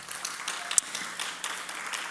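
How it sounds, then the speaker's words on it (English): Steady audience applause at an awards ceremony, a dense patter of many hands clapping at moderate distance, continuing throughout. "Ruchira Gupta, please give her a round of applause."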